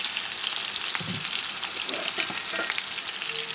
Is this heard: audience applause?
no